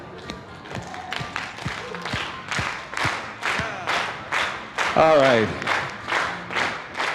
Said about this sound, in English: everyone stand up and clap their hands